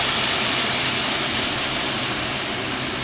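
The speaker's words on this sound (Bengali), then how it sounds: "এবারে এই মশলাটা আমি আলুতে দেব" Spice paste hitting potatoes that have turned reddish in a hot kadai, giving a steady, dense frying sizzle that holds evenly throughout with no pauses and no voices.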